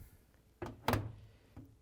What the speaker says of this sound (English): Next, I'm going to close the door